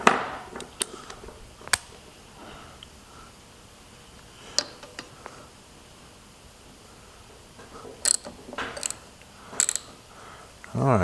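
A ratchet with a 12 mm socket on an extension loosens a bolt among the injector lines of an AAZ diesel engine, giving scattered close metallic clicks and ratchet bursts over a quiet background.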